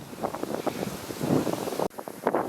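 Gusty wind buffets a microphone on a walk through snowy Minnesota woods, a loud, rough, continuous roar that drops out abruptly for an instant near the end before surging back.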